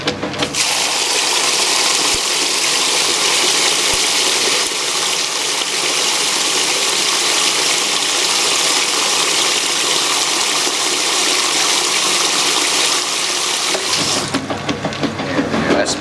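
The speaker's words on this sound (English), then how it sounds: "I'm gonna add the water." Water gushes steadily into the tub of a 1996 Whirlpool direct drive washer during a towels normal cycle, a loud, continuous rushing fill that holds for several seconds and cuts off abruptly near the end.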